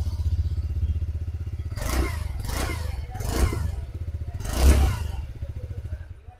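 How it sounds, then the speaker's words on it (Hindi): A TVS Ntorq scooter exhaust idling with a steady, thumpy putter, interrupted by four short throttle blips that rise and fall before the engine is cut off with the kill switch. "एंटोर का जो एग्जॉस्ट साउंड है ना काफ़ी थम्पी होने वाला है"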